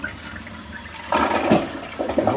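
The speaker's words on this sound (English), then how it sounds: "so let's give it a flush" A Kohler toilet, refitted without a wax ring, is flushed nearby; a quiet lead-in breaks into a rushing gush of water that surges and swirls through the bowl.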